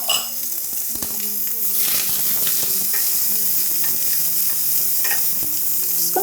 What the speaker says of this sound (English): this process starts off with a little bit of olive oil, and I'm going to braise some onions